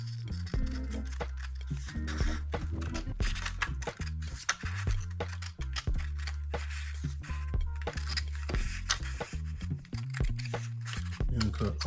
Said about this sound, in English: now you want to take your scissors and go ahead and cut these lines straight as you can